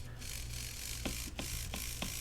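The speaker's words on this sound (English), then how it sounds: "We are driving the motor." The small motor of an Orlandoo Hunter RC crawler kit runs on the bench, giving a faint, even whirr with a few sharp clicks from the drivetrain at short, irregular intervals.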